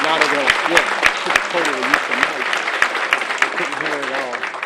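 Audience applause at a Ward 7 community gathering, a broad crackling wash of clapping with a few sharp louder claps standing out, while voices call and talk over it.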